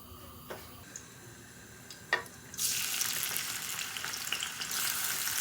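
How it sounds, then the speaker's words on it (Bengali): Garlic dropped into a hot kadai bursts into a loud, steady sizzle about halfway through, after a few faint clicks and taps, and keeps frying evenly to the end. "আগে রসুন ছেড়ে দিলাম"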